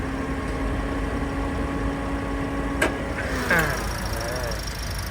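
A 2019 Toyota Vios with a 1.5-litre engine idles steadily in an open engine bay, a smooth mid-pitched hum with faint whine, briefly broken by a couple of sharp clicks and a short tonal squeak.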